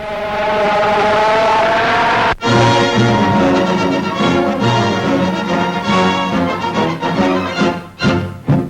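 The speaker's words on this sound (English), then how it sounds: "the spills are all a part of the thrills when the speedboats race for the gold trophy" Racing speedboats competing for a gold trophy roar loudly and continuously, with a brief cut partway through, then engine noise that surges and wavers in a 1940s newsreel.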